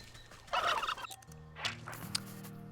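Angry turkey-like fowl in the Wytchwood game gobbles in a loud, rapid burst, followed by quieter trailing gobbles and a low hum.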